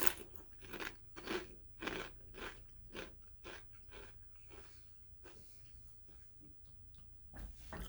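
Cool Ranch Doritos tortilla chip being bitten and chewed up close: a run of sharp, crisp crunches in quick rhythm, loudest early on, then fading into smaller crackles, with no talking.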